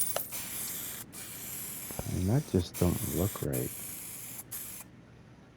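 A spray gun paints a car in Car Mechanic Simulator 2021, a steady hissing spray broken by short pauses while someone talks over it.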